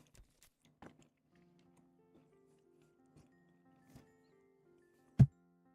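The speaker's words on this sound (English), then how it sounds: "I don't want anyone to hear me chew. It's a very chewy bar." A very chewy, marshmallow-like snack bar being eaten indoors, heard as a few sparse, soft mouth clicks and chewing smacks over a faint background hum, ending in one sharp louder snap.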